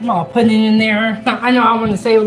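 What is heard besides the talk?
No everyday noise stands out behind the speech.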